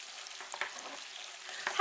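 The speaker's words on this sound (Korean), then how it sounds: "꼭 요렇게 고기부터 간하여 초벌해 주세요." Seasoned meat strips for gochu japchae being stir-fried in a wok over low heat, a faint soft sizzle with a few light scrapes and clicks, quiet and close.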